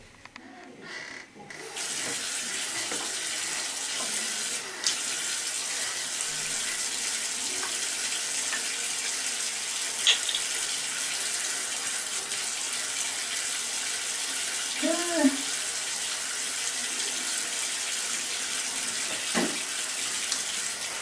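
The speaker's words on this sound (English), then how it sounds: "An average brushing of your teeth for 2 minutes twice a day with the water running uses up to 24 liters" Tap water runs continuously into a sink during tooth brushing, a steady close hiss that lasts throughout with a few small splashes and clinks along the way.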